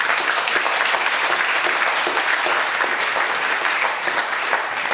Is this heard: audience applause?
yes